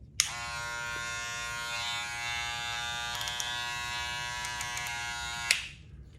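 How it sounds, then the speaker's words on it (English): A Stylecraft Rebel hair clipper runs with a steady, loud, high buzzing hum, switched on abruptly and cut off after about five seconds. It is close, with faint clicks of handling and no speech. "So this right here, okay, is your Stylecraft Rebel. This clipper, man, look."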